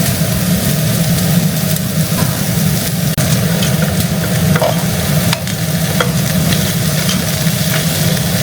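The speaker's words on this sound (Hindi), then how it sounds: "वेजीज को इसमें फ्राई करेंगे।" Vegetables fry loudly in a hot pan with steady sizzling and a constant hiss, broken by occasional scrapes and clinks of stirring, continuous and close with no talking.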